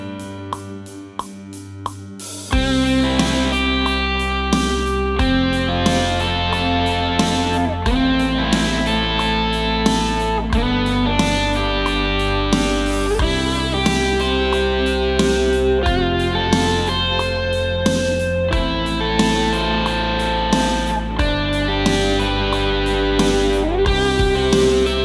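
Electric guitar strums triads for a worship-style practice approach, starting with a few light plucked notes before steady, full chords ring out continuously at an even volume with no talking.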